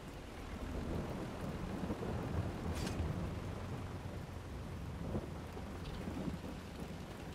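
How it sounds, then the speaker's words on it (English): A thunderstorm with rain in a farming video game: steady, dense rainfall hisses throughout, with low rumbling thunder underneath and a couple of brief sharper crackles partway through, no talk. "A regular old thunderstorm."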